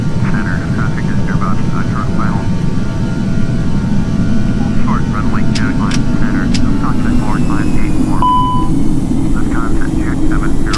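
Jet airliner engines in Flight Simulator X during takeoff climb out of Frankfurt bound for Berlin give a loud, constant roar, with faint chirping cockpit voices layered beneath.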